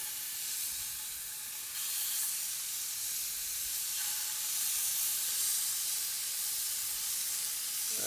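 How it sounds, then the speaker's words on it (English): A loud, steady sizzle of scallops searing in a hot pan, bright hissing that swells slightly midway and continues without talk. "The pan's still sizzling hot, and these scallops are going to happen really fast as well."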